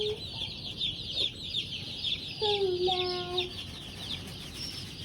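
Two-day-old meat chicken chicks peep and cheep with steady high chirps over a low background rumble, with a brief run of louder calls partway through.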